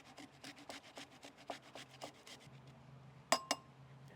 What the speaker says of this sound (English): It's a knob of fresh ginger. I don't know, looks maybe about an inch of it. And you're gonna hit that over a microplane.